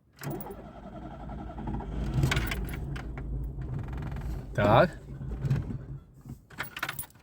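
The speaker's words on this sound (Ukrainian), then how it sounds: "От заводимо машину." A VAZ 2115 car's engine cranks and catches on a cold day after keys jangle, with a brief starter whine followed by idling; someone speaks a short word nearby.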